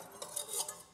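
Quick whisk strokes stirring a bowl of wheat paste, a brief burst of soft scraping and clinking against the container, faint and close.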